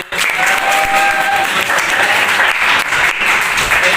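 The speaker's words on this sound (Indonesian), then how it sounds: "tepuk tangan untuk Calvin." Steady, loud applause from a group, continuous clapping that fills the whole stretch without pause.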